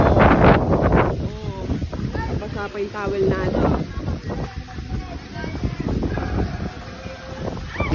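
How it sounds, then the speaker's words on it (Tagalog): Strong wind buffeting the microphone outdoors beside a stream at Tanay, Rizal, a steady low rumbling roar running under people chatting nearby. "Ayan o, lakas ng hangin."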